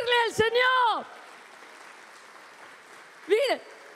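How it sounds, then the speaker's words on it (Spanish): Congregation in a church service clapping, a soft, steady wash of applause between a preacher's loud, emphatic words, which come at the start and again near the end. "Vamos a aplaudirle al Señor."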